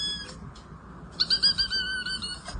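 A person imitates a pigeon call with the voice, a brief whistle-like note followed by a louder, wavering run of tonal cooing calls, close and clear with no talk.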